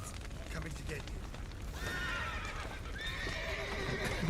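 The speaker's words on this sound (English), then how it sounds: "Get these horses out of here." Horses whinny loudly in sharp, high neighs inside a burning building in The Witcher 3: Wild Hunt, with hooves clip-clopping and a rumbling fire-like background.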